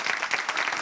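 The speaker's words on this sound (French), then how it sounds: "Allez, on l'applaudit, s'il vous plaît" Audience applause in a French game-show studio, a brief burst of brisk, even clapping at moderate loudness with no talking over it.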